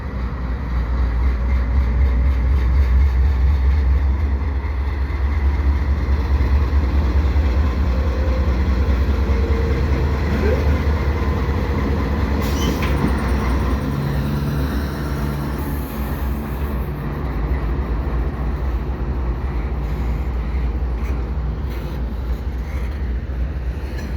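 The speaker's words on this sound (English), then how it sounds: "A single locomotive up front. Looks like an AC 4400 CWM." A CPKC intermodal freight train led by a single AC4400CW diesel locomotive rolls past at close range, a loud, sustained rumble of engine and rail noise that holds steady throughout.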